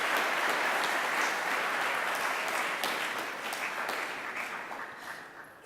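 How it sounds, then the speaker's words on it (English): An audience applauds at a graduation ceremony for hospital interns, with dense, sustained clapping that gradually fades toward the end. "let's give another round of applause for the Cincinnati Children's Hospital Medical Center interns"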